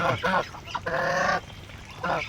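Several geese honk loudly and nearby in a quick series of harsh, nasal calls, with short gaps between bursts.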